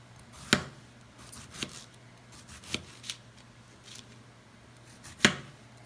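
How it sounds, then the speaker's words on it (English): A knife chopping tomatoes on a cutting board for guacamole, several sharp knocks spaced irregularly with softer scraping between, close and fairly quiet with no talking. "So we already cut all our tomato."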